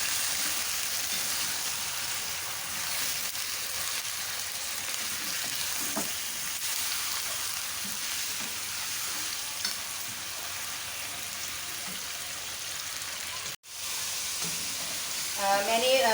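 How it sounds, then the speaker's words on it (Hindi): Chicken frying in about a cup of oil in a pan while being stirred, a constant hissing sizzle throughout with occasional scraping, a brief dropout near the end. "पहले चिकन की अच्छी तरह से भुनाई करेंगे कि इसका जो कलर है वो चेंज हो जाए।"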